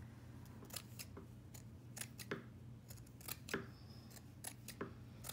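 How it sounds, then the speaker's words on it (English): Scissors snipping through lace trim for a fabric snippet strip, a series of sharp, close, quiet cuts at an irregular rhythm with no voices. "Cut some of these laces."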